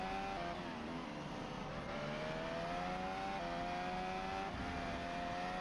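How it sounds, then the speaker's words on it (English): Red Bull Formula 1 racing car at the 2024 Grand Prix sprint qualifying, its engine a steady high-pitched whine rising and falling through gear changes, continuous and moderately distant with no talk over it. "You can see a Red Bull coming out on track."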